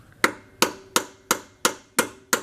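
Seven sharp metallic taps from a copper hammer on a Land Rover engine timing chain tool, at an even, steady pace, close up with a brief ring after each strike.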